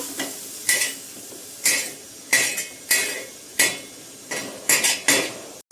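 Roasted whole garam masala spices are scraped from a pan onto a plate, giving about ten sharp metallic scrapes and clinks in an uneven rhythm, close and moderately loud, with no talk.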